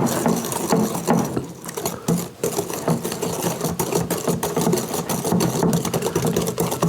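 Eggnog ingredients being whisked together in a bowl, a busy continuous clatter of rapid tapping and scraping strokes, close and fairly loud throughout with no talking.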